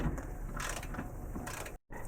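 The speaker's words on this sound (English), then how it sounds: "Now we can move over to the subframe bolt, and we'll use our eTorx 14 on that." A ratchet with an E-Torx 14 socket works on the rear subframe bolt of a BMW M2, M3 or M4, giving a fast, close metallic clicking in short bursts, briefly cutting to silence near the end.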